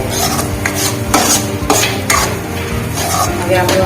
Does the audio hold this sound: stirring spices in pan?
yes